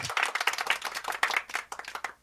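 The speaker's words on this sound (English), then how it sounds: "Golf clap for Johnny Cash." A small scattering of light, polite claps in tribute to Johnny Cash, irregular and close, lasting a couple of seconds with no talk.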